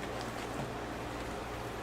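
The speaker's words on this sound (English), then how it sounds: "Just listen to the sounds of the rain." Rain falling steadily, a soft, even hiss of drops that stays constant throughout and sounds faint and distant, with no voices.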